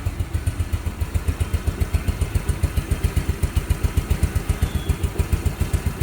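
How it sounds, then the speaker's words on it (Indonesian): A 2006 Yamaha Nouvo Z scooter with a stock engine and carburetor idles close by, its exhaust giving a steady, rhythmic thudding pulse that repeats evenly throughout. "dengar sendiri suara knalpotnya deg-deg pada deket"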